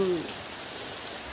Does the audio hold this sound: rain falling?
yes